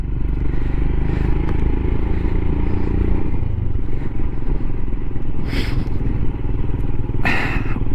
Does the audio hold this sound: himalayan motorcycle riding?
yes